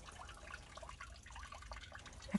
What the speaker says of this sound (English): it's like a continuously falling raindrop